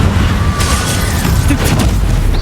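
A Bombarda spell blast in the Hogwarts Legacy video game sends out a loud, sustained low boom that rumbles through the whole moment without easing.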